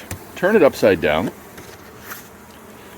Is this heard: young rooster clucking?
no